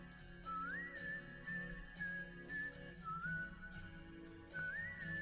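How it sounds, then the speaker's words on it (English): A whistled melody from a song recording carries over backing instruments, with sustained, sliding tones that repeat in short phrases, fairly quiet and steady. "Ooh, whistling."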